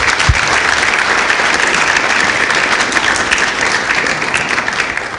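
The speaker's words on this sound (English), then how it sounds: "if we could get a round of applause for these gentlemen and ladies" An audience at a Linux Australia annual general meeting breaks into sustained applause, a thick, continuous roar of clapping that stays loud and even before easing slightly at the end.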